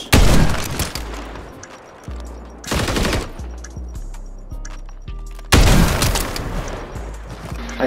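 Gunshots in a sniper shooter game, heavy booming reports in several clusters with rapid follow-up shots, loud and close, separated by short quieter gaps filled with low game tones.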